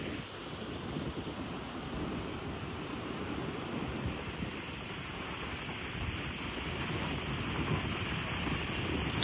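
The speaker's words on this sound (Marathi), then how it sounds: "समुद्र किनाऱ्यावरती जोराचे वारे येत आहेत." Strong wind blasts across the open shore of Guhagar beach, a steady roaring rush with continuous mic buffeting, backed by crashing surf throughout, loud and unbroken with no voices.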